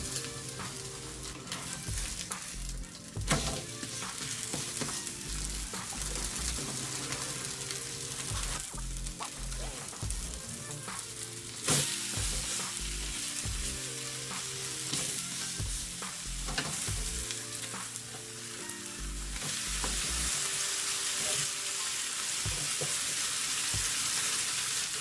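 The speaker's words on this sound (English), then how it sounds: "Okonomiyaki can be cooked on an electric griddle in the household like this." Okonomiyaki with pork, shrimp, squid and beef tendon frying on a household electric griddle: steady loud sizzle throughout, with repeated scraping and stirring strokes near the surface, no voices.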